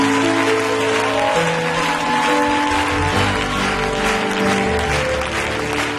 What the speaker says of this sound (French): Nous voulons encore donner gloire à Jésus par des acclamations.